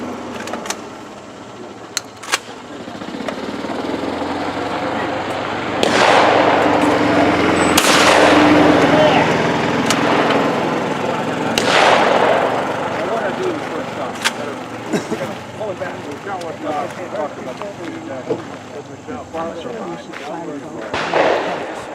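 Shotgun blasts from the same gun at a shooting outing, a few loud sharp reports spaced seconds apart over outdoor ambience, with people talking between shots.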